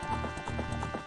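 Horse hooves clip-clop in a steady rhythm in Zelda: Ocarina of Time, game music or ambience running beneath, moderately loud and close.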